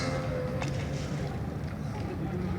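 Racing inflatable boats with modified engines run in the harbour of Heraklion during a demonstration, a steady loud motor drone with wind and water noise throughout.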